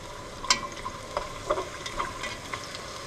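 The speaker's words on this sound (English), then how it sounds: "You can hear it sizzling in there." Soft sizzling of food frying in a pan for a Tuscan bean soup, a steady hiss with small crackles and occasional stirring clinks, close and fairly quiet.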